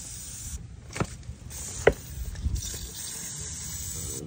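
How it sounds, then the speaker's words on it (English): An aerosol can of WD-40 lubricant hisses in a steady spray lasting a few seconds onto the rear camber arms of a Nissan 370Z, with a couple of sharp clicks and faint handling noise underneath. "I'm gonna get the WD-40, spray it down."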